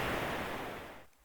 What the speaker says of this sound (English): if you can hear running water in the background, you can probably also guess how Cataract got its name.